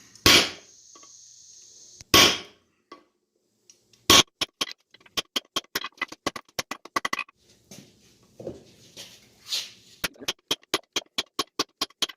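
Metal hammer blows ring out on hot steel while forging a tomahawk from a railroad clip: a few heavy, spaced strikes on a set-down tool made from an engineer hammer, then a rapid run of sharp, ringing hits with brief pauses between bursts.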